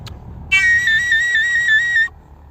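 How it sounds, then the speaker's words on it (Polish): A bright, steady tone from a dwojnica, a Polish double folk pipe, with a droning companion note from its second pipe, sustained for about a second and a half, then cut off cleanly. "Pierwszy instrumencik, który weźmiemy dzisiaj na warsztat, to jest instrument zwany dwojnicą."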